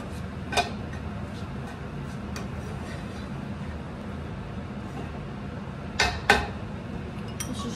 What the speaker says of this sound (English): We're going to pop that back on the heat and stir it up.